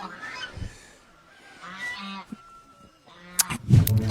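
Chickens and other fowl calling in short honking, clucking bursts, a couple of early calls, then a louder, busier cluster near the end, fairly close with no talk.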